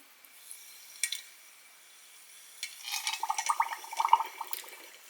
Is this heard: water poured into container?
yes